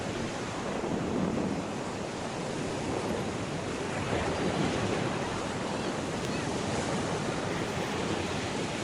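Steady ocean surf washing onto a beach at sunrise, a continuous broadband roar of breaking waves mixed with wind buffeting the microphone, loud and unbroken throughout with no talking.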